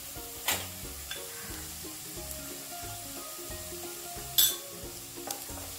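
Onions and green chillies fry with turmeric powder in a pan for chilli idli, giving a soft sizzle under a steady tonal background, with two sharp clinks of a utensil against the pan.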